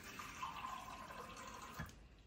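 Filtered water pours steadily from a container into a blender jar while pozole blanco is being prepared in a home kitchen, a continuous close splashing trickle with a brief louder gush near the end and no talking.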